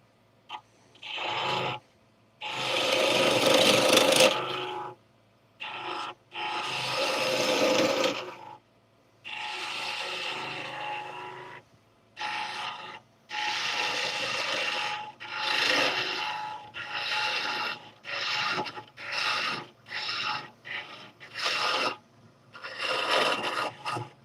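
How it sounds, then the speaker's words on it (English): A woodturning lathe tool cuts a tenon into spinning wood, making loud rasping, scraping bursts that start and stop repeatedly, some lasting several seconds and others short and choppy. "So right now I'm cutting the tenon."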